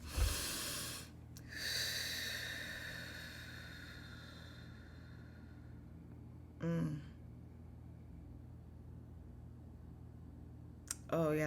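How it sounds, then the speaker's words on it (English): A person practises fire breath, a breathing exercise, with a few forceful, close breaths: a sharp burst, a long rushing exhale, then two short snort-like breaths spaced several seconds apart in a quiet room. "I feel like you need to practice fire breath"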